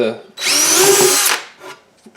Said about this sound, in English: since I already have the drill out, I generally go ahead and put a couple of holes in it